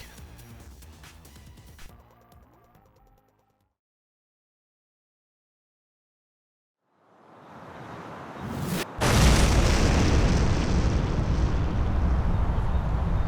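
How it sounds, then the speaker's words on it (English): Nuclear explosion in the video game Fallout 2: game music gives way to near silence, then a deep roar swells up, a sharp boom cracks, and a loud sustained rumble continues to the end. "this might actually be the only nuke in this world that was warranted"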